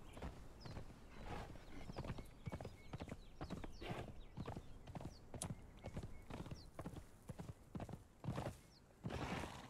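Hooves clip-clop in a quick, uneven rhythm as a horse runs off in the video game Conan Exiles, with a whinny near the end.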